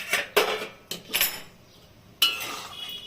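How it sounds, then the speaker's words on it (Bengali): Metal lid lifted off a pot of Katla fish curry cooked with nigella and mustard, giving several sharp clanks and clinks close by, the last one bright and ringing, with quiet gaps between. "এখন আমি ঢাকনাটা খুলে নেব"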